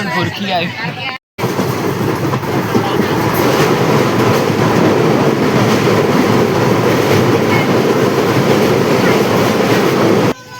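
A moving train rumbles steadily with rhythmic clattering from the wheels, loud and close, with people talking faintly in the background.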